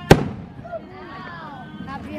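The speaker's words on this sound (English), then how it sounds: "Fireworks." A firework bursts on Halloween night with a single loud, sharp bang near the start, followed by a lingering rumble while voices talk in the background.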